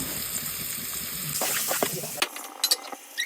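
Eggs frying with chili powder in a pan, a steady sizzle that gives way to scattered crackles and pops toward the end, close and moderately loud, with no talk over it.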